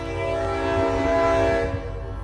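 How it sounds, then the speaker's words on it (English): A train horn sounds at the Sardinia railroad wye as the train approaches, one loud steady chord held for about two seconds over a low rumble of rail traffic, with no talk. "Here comes the train"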